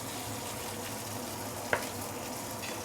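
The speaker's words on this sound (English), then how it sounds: "Sichuan peppercorn can get burned rather easily. So you don't want to saute for too long" Sichuan peppercorns sauté in a hot pan with a steady, soft sizzle throughout, close but quiet, broken once by a brief clink.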